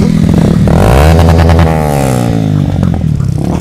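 A racing motorcycle revs hard during street freestyle on a public road. Its loud, close engine note climbs in pitch and then holds a steady high drone, with some mechanical clatter and no talking.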